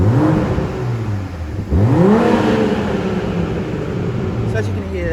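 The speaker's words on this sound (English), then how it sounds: "a very throaty, deep exhaust sound from this absolutely incredible M340i" BMW G20 M340i xDrive in Sport mode with the exhaust fully open, revving hard twice in quick succession, each rev swelling to a deep, throaty roar before falling back to a steady idle rumble, loud and close.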